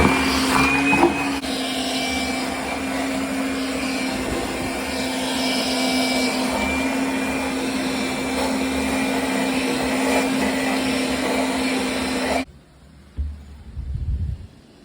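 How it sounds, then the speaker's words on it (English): A wet vac fitted with a HEPA filter sucks water out of a leaking tap's pipe, a loud steady whine with a high tone running for about twelve seconds before cutting off abruptly, followed by brief handling noises. "So what I'm going to try and do is wet vac it out."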